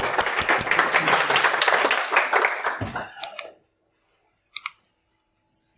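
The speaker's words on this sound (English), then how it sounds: "A round of applause for the awesome." A room full of people at a security conference talk claps loudly for about three seconds before the applause stops abruptly, followed by near silence and a couple of faint clicks.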